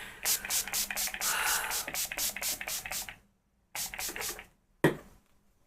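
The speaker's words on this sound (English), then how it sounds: "I'm going to set this now with, of course, the incredible setting or fixing spray." A rapid series of short hissing pumps of makeup setting spray, about a dozen close bursts, then a pause and a few more quick sprays ending with a soft thud.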